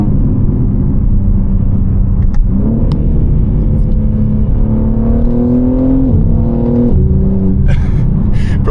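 A tuned BMW G80 M3 drones loudly from inside the cabin as its engine note climbs and steps through downshifts, ending with brief crackling exhaust burbles.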